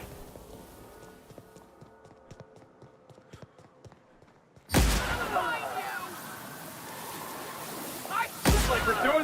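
Gunfire opens up in a live-streamed game as a sudden loud burst cuts in after a quieter stretch, followed by sustained rumbling battle noise and a second sharp blast near the end.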